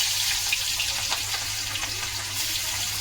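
Onions hit hot oil spiced with whole garam masala in a wok, giving a soft, steady close sizzle with light watery crackle and no voices.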